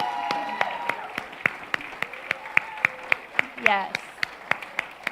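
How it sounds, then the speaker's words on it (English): Congregation applauding the musicians at a Unity church service, with sharp, evenly spaced claps over a murmur of voices and someone speaking briefly. "let's give a round of applause for all of them."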